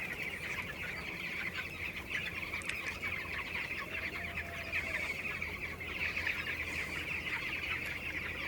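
Many chickens cluck and chatter continuously in a busy flock inside a poultry farm with fans running, with occasional louder calls standing out over a steady background hum.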